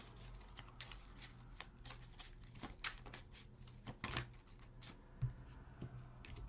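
A deck of tarot cards is shuffled close up, with quiet, irregular riffling and snapping bursts separated by short pauses, faint against a low background hum.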